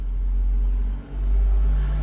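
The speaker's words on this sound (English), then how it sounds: "Wait for the noisy trucks to go by." Noisy trucks drive by with a heavy low rumble that fills the clip, dipping briefly in the middle before swelling again, steady and close with no talk.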